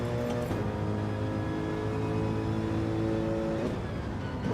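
A race car engine from the Gran Turismo 7 video game holds a steady, loud drone with sustained harmonic tones through the corners, shifting pitch near the end with no speech over it.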